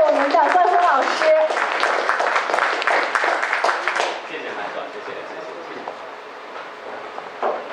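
An audience claps loudly to welcome the host at a fan meet-and-greet in Toronto. Dense, steady applause fills the first four seconds, with a few brief tones mixed in, then fades to a quieter, scattered patter.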